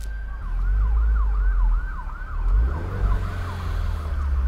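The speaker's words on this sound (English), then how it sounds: "Ambulance." An ambulance siren wails in a rapid repeating up-and-down sweep as it passes, loud and fairly near over low traffic rumble, with no voices.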